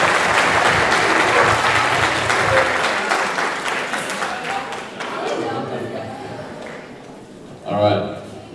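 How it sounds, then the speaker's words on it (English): A banquet crowd applauds the 2015 Big Band All District Honor Band members, dense clapping that gradually thins and fades, followed by a brief burst of nearby talking. "Everybody, a round of applause"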